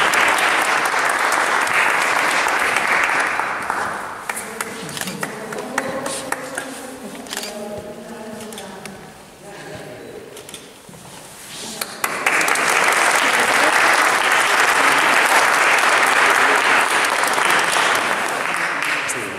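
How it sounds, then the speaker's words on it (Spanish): Audience applause at a photography award ceremony in Calahorra, La Rioja, loud and dense at first, thinning to scattered claps under a brief lull with voices, then swelling back to full strength. "Un fuerte aplauso."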